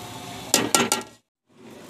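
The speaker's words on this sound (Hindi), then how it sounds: "थोड़ा सा हमने इसे भून लेना है" Arvi masala (taro curry) frying in a pan gives a broad sizzle with a few sharp stirring bursts. It cuts out briefly and then resumes more softly.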